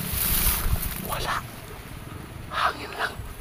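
Wind gusts buffet the microphone outdoors, a steady low rumble with a couple of swelling whooshes.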